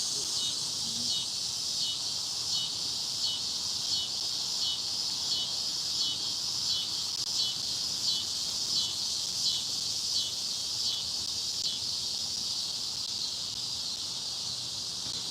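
Dense, loud insect buzzing of cicadas fills the outdoor air in a steady, pulsing high-pitched drone with no pauses, carrying on alone without talk.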